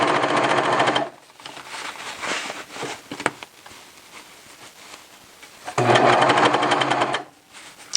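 A serger sewing machine stitches a T-shirt neckband in two loud bursts of steady, rapid whirring, the first lasting about a second and the second about two seconds near the end, with quieter fabric handling in between.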